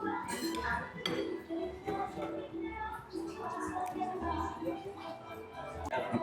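Spoon and cutlery clinking against a plate while eating at a city eatery, with scattered bright clinks and scrapes among background chatter and room noise.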